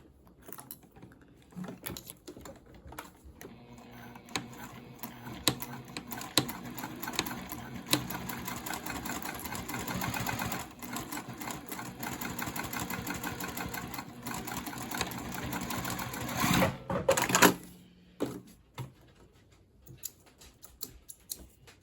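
A sewing machine stitches a backpack seam with backstitching at the start and stop, a close, rapid mechanical whirring and ticking that runs steadily for most of the time, with brief pauses and a final burst before it stops.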